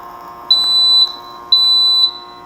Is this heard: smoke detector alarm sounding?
yes